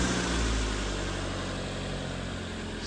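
A Mazda car engine rumbles steadily at idle, loud and close, with a slight surge at the start before settling into an even drone.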